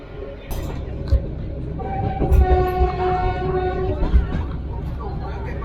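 A small two-car non-steam train in Da Lat, Vietnam, rumbles along in close view with a steady low rolling drone, several rhythmic clunks from the wheels and a sustained horn tone through the middle.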